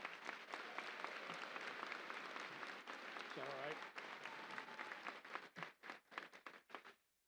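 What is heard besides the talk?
commencement audience applauding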